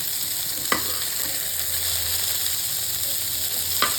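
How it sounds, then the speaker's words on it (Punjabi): Ground onion and tomato paste fry in a little oil with a continuous soft sizzle, broken by two brief spoon clicks as it is stirred. "ਇਧਰ ਆਪਾਂ ਪਿਆਜ਼ ਟਮਾਟਰ ਗ੍ਰਾਈਂਡ ਕਰ ਲਏ ਨੇ ਇਹਨਾਂ ਨੂੰ ਥੋੜਾ ਜਿਹਾ ਬਸ ਬਰਾਉਨ ਕਰ ਲੈ"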